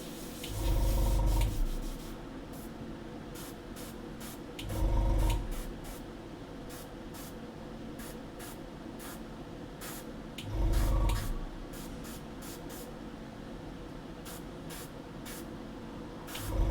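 An airbrush sprays paint onto a diorama model in three separate short, loud hissing bursts, with pauses between them. Faint scratchy handling noises fill the background.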